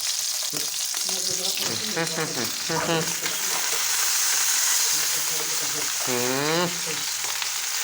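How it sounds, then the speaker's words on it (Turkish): Steady sizzling of food frying in a pan, a continuous hiss running throughout while voices talk over it. "Bize lezzet vermek için biraz kızartalım."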